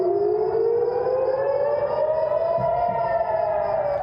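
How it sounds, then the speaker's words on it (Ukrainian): Air raid sirens in southern Israel wail with one long, slowly rising tone that sounds steady and prominent throughout, with no voices over it. "Сирени повітряної тривоги внаслідок дій бойовиків Хамасу продовжують лунати на півдні Ізраїлю"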